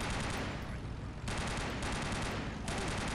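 Sustained automatic gunfire from a belt-fed machine gun in the video game Battlefield Korea, loud and dense, with two brief pauses between bursts.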